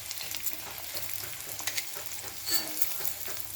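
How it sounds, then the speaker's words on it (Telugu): Onion frying in oil with cumin and mustard seeds in a small kadai for cabbage curry, a soft, crackling sizzle with light stirring clicks and occasional pops. "ఉల్లిగడ్డ వేగుతుంది."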